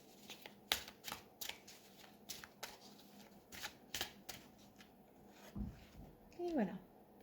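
Hebrew letter tarot cards are shuffled and handled for a reading, giving close, soft papery flicks and rubs in irregular bursts, with a brief voice near the end.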